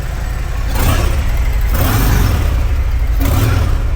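A Harley-Davidson Dyna motorcycle with stock exhaust revs up in repeated surges, rising and falling about three times, loud and close with a deep rumbling exhaust.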